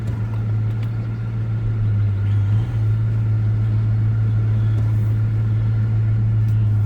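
A 2006 Daytona car engine idles steadily after a cold start, a loud, close, continuous low rumble with a strong even hum that holds unchanged from start to finish, with no voices.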